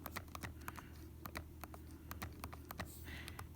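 Calculator keys being pressed to enter data values, a fast irregular run of soft plastic clicks, close and quiet, with no talking.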